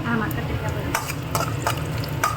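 Mustard seeds, urad dal and chana dal fry in oil, a loud continuous sizzle broken by sharp crackles and pops from the seeds.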